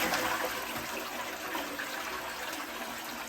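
Water rushes steadily into the cistern of a toilet being renovated, a close, continuous hiss and gurgle of refilling after the flush, with no voices.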